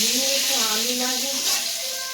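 Meat and potatoes frying in a small amount of oil in a home kitchen, a steady loud sizzle filling the whole stretch, with a faint voice murmuring underneath.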